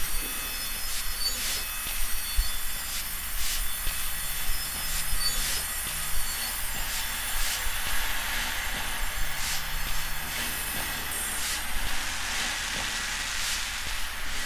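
A stage sound effect of a train on rails entering a camp: a steady, rumbling rolling noise with repeated metallic clicks and squeals, continuous throughout and with no talking.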